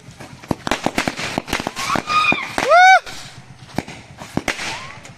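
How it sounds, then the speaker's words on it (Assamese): Firecrackers go off outdoors on an outing in Shillong, giving a string of sharp cracks and pops scattered throughout, with one whistling rising burst in the middle and people talking and shouting around them. "তাৰে কাৰণে আমি অলপ ফটকা মাৰি ফূৰ্তি কৰিম"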